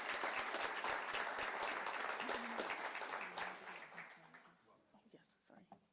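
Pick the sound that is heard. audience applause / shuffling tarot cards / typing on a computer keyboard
audience applause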